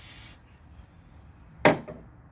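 Brake cleaner is sprayed onto rusty vehicle parts in two short, sharp hissing bursts, close and loud, separated by a quiet gap.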